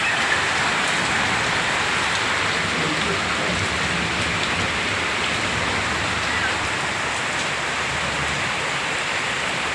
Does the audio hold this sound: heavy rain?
yes